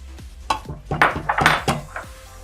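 Chopped onions tipped into a metal pot of Nigerian soup with stockfish, giving a series of near clattering knocks and scrapes of utensil against pot, loud and uneven, with no talking.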